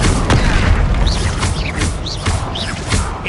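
Repeated booming blasts of the Bombarda spell in Hogwarts Legacy, loud and close, roughly every half second amid dense crackling game noise, with no talk over them.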